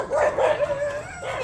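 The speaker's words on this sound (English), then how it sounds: "More dogs." Dogs barking and yipping on a rural road, several quick close barks with a whiny, howling edge, in a short loud burst.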